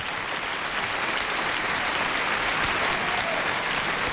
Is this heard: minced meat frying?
no